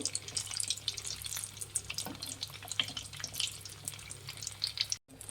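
Bread masala rolls fry in hot oil in a small pan, three at a time, giving a steady, busy crackle and sizzle with quiet popping and no talking.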